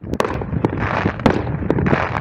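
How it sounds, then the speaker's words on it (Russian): A New Year's fireworks salute bursts in the sky, rapid sharp cracks and booms in quick succession over a crackling rumble, loud and close with no talk. "Какой красивый салют."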